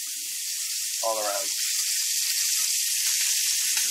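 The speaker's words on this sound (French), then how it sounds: "Je tourne l'épaule pour la faire dorer sur toutes les faces." Venison shoulder sears in a hot pan, giving a steady, loud broadband sizzle that runs the whole time, with a brief tonal scrape near the start as the heavy piece is turned.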